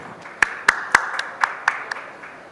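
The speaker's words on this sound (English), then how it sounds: "Everybody, please welcome with a round of applause" A small audience at the Pitch Madison Advertising Report 2025 unveiling claps to welcome speaker Satya Raghavan, producing sparse, distinct claps at an uneven rhythm over a quiet room.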